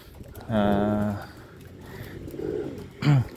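Racing pigeons perched in pairs at the loft give two clear, close, throaty coos, one long and one short, with quieter murmuring in between.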